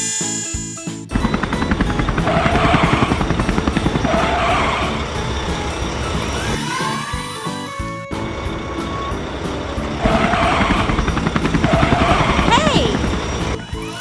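A cartoon rescue helicopter's rotor chops loudly and steadily nearby, mixed with music, cartoon sound effects and brief voices.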